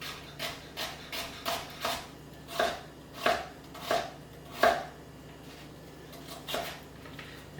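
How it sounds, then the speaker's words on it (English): A knife chops through an onion onto a cutting board in a home kitchen, about a dozen crisp, evenly spaced thunks, close and clear, with no one speaking. "And I get a nice thin slice of onions."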